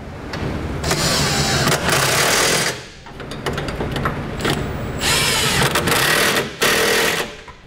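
A power tool tightens Curt Custom Fit Class 3 trailer hitch hardware on a 2015 Chevrolet truck, running in loud, close, whirring bursts of a few seconds each, with short pauses between them.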